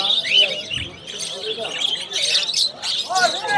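Small caged birds at a bird market chirp and squawk in a dense, bright chatter that runs throughout, with a voice talking nearby.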